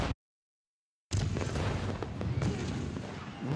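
Fireworks fired in quick succession after a short silence, a dense run of loud booms and crackling bursts that carries on continuously.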